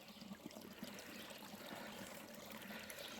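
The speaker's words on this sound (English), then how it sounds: "Here's a spring where we had to get water." Cold spring water streams steadily into a water bottle at a trailside spring on the Devil's Path in the Catskills, a faint, continuous trickle heard close up with no talking.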